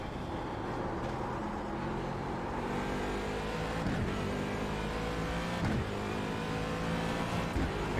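Race cars battling for position in iRacing during an IMSA race, engines droning and revving continuously with shifting pitch, close and steady throughout with no talk.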